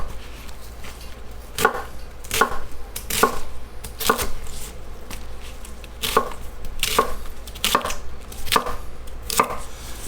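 A knife cuts a small baby cabbage in half on a board, giving a steady series of crisp chopping thuds about every second, close and clear with no talking.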